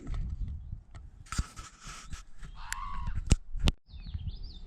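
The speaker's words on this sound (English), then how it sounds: "Look how big those crows are." Large crows caw on a mountain ridge in the Shining Rock Wilderness along the Blue Ridge, with a few harsh calls at middle distance among scattered rustles and bumps.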